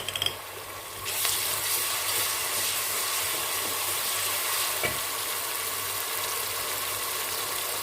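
Ginger garlic paste dropped into hot oil with golden-browned onion, a sudden loud, steady crackling sizzle that begins after a second and holds evenly, with a brief clunk midway.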